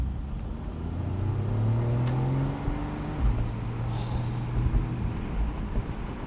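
Porsche Boxster driven and accelerating, a steady engine drone with rising and falling tones as it speeds up, heard from inside the car, no talk.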